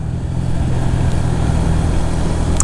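A Husqvarna Svartpilen 401 motorcycle engine idles steadily, a constant low, even rumble heard up close and loud with no voices over it.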